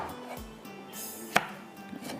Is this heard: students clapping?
no